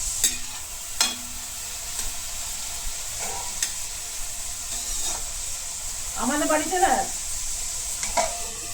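Sliced bitter gourd softly sizzles in a pan at home, with scraping stirs from a spatula now and then over a steady hiss.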